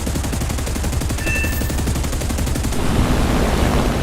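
Rapid bursts of MiG fighter machine guns, including high-caliber UBK guns, rattle in War Thunder, a dense, fast stream of loud shots over a steady engine roar with no voices.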